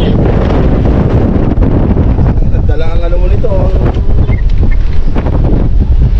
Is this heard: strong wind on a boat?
yes